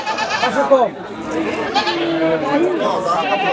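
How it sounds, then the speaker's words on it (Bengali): Goats bleat loudly and repeatedly up close at a goat market, wavering cries overlapping amid background chatter. "বড় ছাগল এটা"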